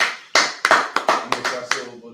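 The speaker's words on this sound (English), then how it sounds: "Clap it up." A group claps in unison as a salute to an officer at the close of a class, about seven sharp, evenly spaced claps ringing out one after another with no talk over them.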